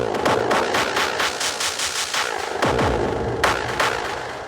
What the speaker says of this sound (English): just creating these really cool booms straight off the bat